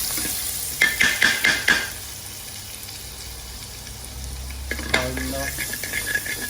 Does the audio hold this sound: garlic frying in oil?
yes